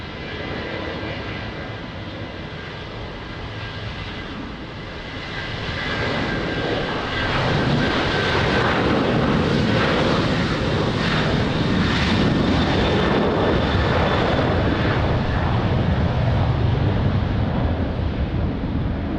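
A Ryanair airliner takes off at Lisbon Airport, its jet engines building from a steady rumble to a louder, fuller roar that holds for the rest of the stretch, with no talk.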